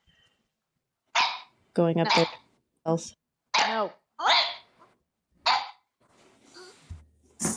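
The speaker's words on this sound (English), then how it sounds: "That would be my dog." A pet dog gives several short, loud, close barks spaced irregularly, with people speaking briefly between them.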